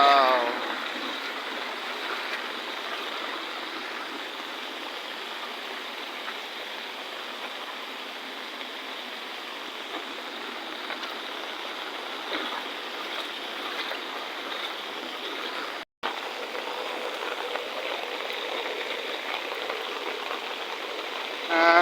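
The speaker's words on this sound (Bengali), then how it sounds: "বৃষ্টির পানি" Rainwater falls in a steady, dense hiss of drops, broad and continuous with no breaks in intensity, apart from a brief cut partway through.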